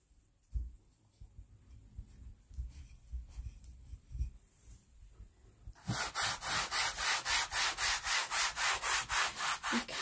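Wax being rubbed onto a painted 11x14 canvas, quiet scattered rubbing at first, then a loud, steady, rhythmic back-and-forth buffing close by, with no talking.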